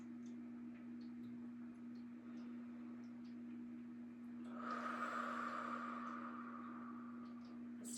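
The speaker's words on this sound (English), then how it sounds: "Taking a nice deep breath." A single long, deep breath drawn in during a guided relaxation session rises out of a quiet room with a steady low hum, swelling for about a second and a half before fading.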